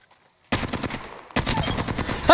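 Automatic gunfire from the Apex Legends video game opens after a short silence and comes in two rapid, loud bursts close up.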